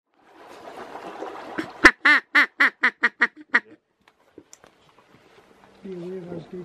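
Ducks quack at first light during duck shooting in Southland, a rapid series of about ten sharp, loud quacks close by, preceded by a low murmur and followed by scattered faint clicks, with a brief voice near the end.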